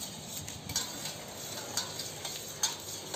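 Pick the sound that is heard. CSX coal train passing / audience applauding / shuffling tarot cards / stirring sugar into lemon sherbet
stirring sugar into lemon sherbet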